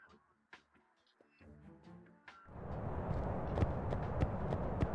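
Galloping horse in a San Andreas and Battlefield 2 combined video game mod, a few sharp hoofbeats over music before a loud, dense rush of game sound swells up and keeps going.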